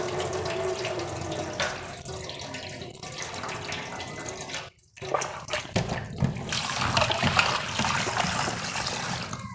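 Tap water runs steadily over whole country chicken in a sink, with a splashy rush through most of the stretch, a brief pause near the middle, then louder gushing and sloshing as the pieces are swished about.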